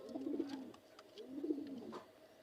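A pigeon cooing nearby, two clear rolling coos about a second apart, fairly quiet against a still background.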